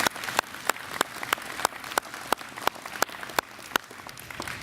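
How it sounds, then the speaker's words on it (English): Audience applause at an outdoor groundbreaking ceremony for a veterans facility, steady clapping with sharp individual claps standing out, continuous and fairly close, no talking. "So please give a round of applause to all committee members for their dedicated support."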